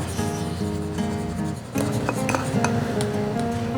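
Cacao chocolate drink being mixed in a bowl with a utensil, continuous clinking and scraping against the bowl, close and fairly loud, over a steady tonal background hum.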